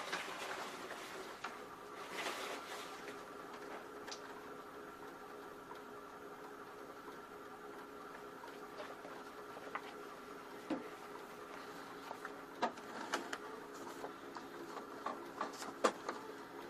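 A Canon Pro 100 photo printer runs its first-time initialization with a steady mechanical hum, scattered soft clicks and ticks, and a few sharper clicks near the end.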